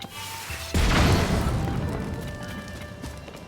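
A cannon in The Legend of Zelda: Tears of the Kingdom blows up with a sudden loud boom and crash, followed by a long rumbling decay that fades over a few seconds.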